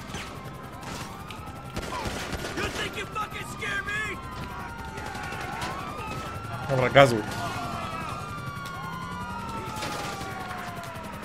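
Police car sirens in Grand Theft Auto V wail in rising and falling sweeps across a busy street scene, moderately loud, with someone speaking briefly over them.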